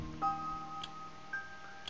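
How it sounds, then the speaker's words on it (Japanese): A slow, steady clock tick from the video game To the Moon, two faint, sharp clicks roughly one second apart, heard alone over a low, calm backdrop of gentle tones. "すみません、時計を止めてもらえますか。"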